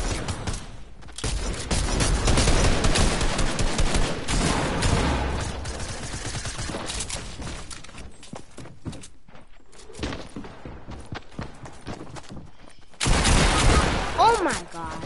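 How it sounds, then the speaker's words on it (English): Heavy gunfire in a shooter video game, sustained fusillade bursts loud and close at the start, thinning to scattered shots in the middle, then a loud burst again near the end, with speech mixed in. "I'm getting shot at. Getting shot at really badly."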